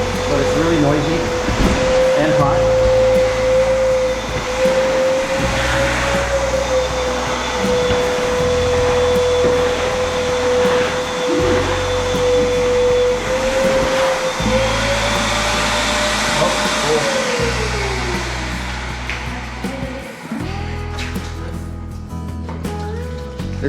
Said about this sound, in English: I got my giant 4200 PSI pressure washer right there. It works great, but it's really noisy and hot.